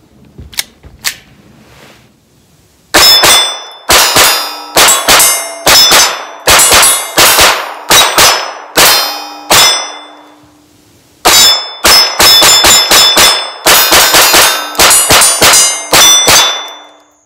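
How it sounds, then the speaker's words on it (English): Gunfire striking steel targets at an outdoor range: sharp, ringing metallic clangs in two long rapid strings, each impact bright and loud with a short decaying ring, separated by a quiet pause. "Let's just get to shooting and have some fun."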